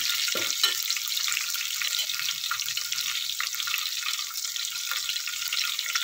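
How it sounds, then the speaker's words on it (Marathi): Garlic sautés in hot oil for dal khichdi, giving a steady bright sizzle that runs throughout at moderate loudness, with a few soft stirring knocks near the start. "लसूण तेलात छान परतला की खिचडीमध्ये खूप छान स्वाद उतरतो"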